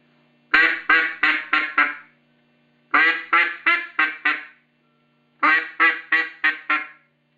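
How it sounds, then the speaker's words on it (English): A duck call blows a five-note greeting call three times, each run made of five sharp quacks. The last notes of each run are shorter, and clear pauses separate the runs. "now to do the greeting call, you want to make 5 notes."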